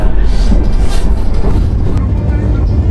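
Loud rumbling of the Java Priority passenger train arriving at Tugu station, Yogyakarta, steady low roar with clattering, heard from inside.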